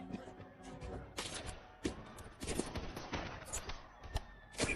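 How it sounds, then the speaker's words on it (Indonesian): Gunfire from a film shootout with police: sharp shots and bursts crack out repeatedly at irregular intervals over a busy, dense action-scene background, fairly loud and up close. "Sedangkan kelompok Kuan kini harus baku tembak dengan polisi untuk membawa Mei"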